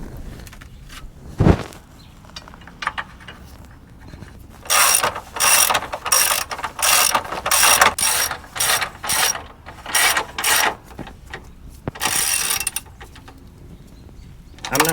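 Ratchet clicks in rapid bursts while tightening bolts on a Subaru suspension bracket, with repeated short loud runs of sharp metallic ratcheting separated by brief pauses, close by.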